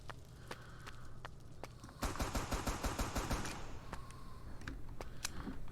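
Automatic gunfire from guns in the video game Empty Vessel bursts out in a dense, rapid string of shots for about a second and a half, with scattered single shots before and after over a steady background.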